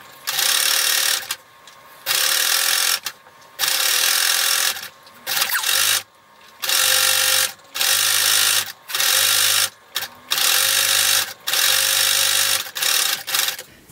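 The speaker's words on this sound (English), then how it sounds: "and then zigzag it again from this side" A sewing machine zigzag-stitching elastic onto swim trunks runs in short whirring bursts of about one second each, separated by brief pauses, loud and close.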